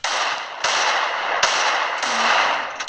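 Loud, continuous gunfire from a video game headshot fills the clip, with sharp cracks at irregular moments standing out above a steady roar, close and with no talking.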